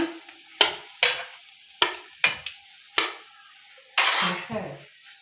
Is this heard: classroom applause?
no